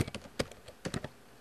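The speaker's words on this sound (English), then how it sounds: "we're going to type in the name of that file that we just placed in the user folder" Keys clatter on a computer keyboard as a file name is typed, a close, irregular burst of clicks and taps with brief pauses between keystrokes, no voices present.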